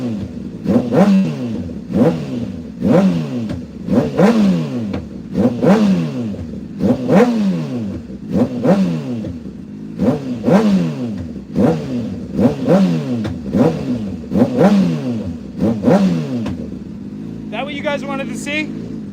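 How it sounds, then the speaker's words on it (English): A car engine is revved repeatedly in close, loud bursts, each climbing and falling back in a regular rhythm, with a short clattering noise at the end. "let's give you guys some revs"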